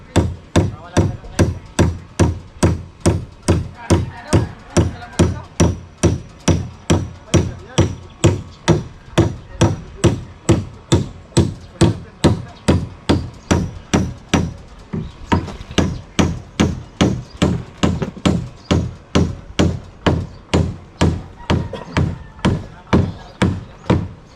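Steady hammering at a house balcony construction site where a beam is being formed, with dozens of sharp, regular blows repeating roughly once per half second and a brief pause midway.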